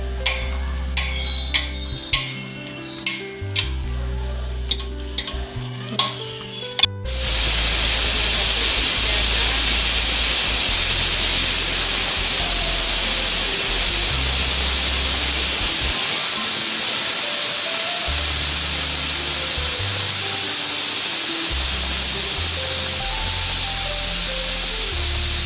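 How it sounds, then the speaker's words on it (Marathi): A pressure cooker holding dal with rice beneath, in a home kitchen, lets out a loud, close, steady hiss of escaping steam that runs unbroken for most of the clip, after several seconds of rhythmic ticking and clicking at the start. "just cooker खोललाय"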